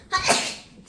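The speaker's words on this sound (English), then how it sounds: "My sneeze smells like chicken noodle soup." A single short sneeze from a person during a homeschool lesson, close and fairly loud, with a sharp burst that fades quickly.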